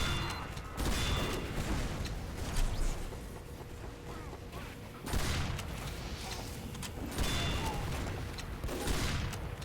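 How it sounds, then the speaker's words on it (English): Rifles firing in the video game Team Fortress 2, distant bursts of shots that swell in repeated waves over a steady battlefield din, with no talking. "I hear so many rifles firing."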